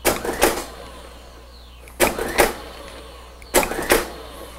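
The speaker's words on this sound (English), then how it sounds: "By pressing this foot treadle, it'll act like the repeat button and give you the last length dispensed." Better Packages BP555eS gummed tape dispenser run with its foot treadle, giving three repeated dispensing cycles, each a short burst of motor whir and feed clatter about two seconds apart, fairly close with quiet between.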